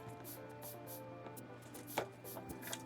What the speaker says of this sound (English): These are the potatoes, and I'm shaking them because I'm going to put these in a container here.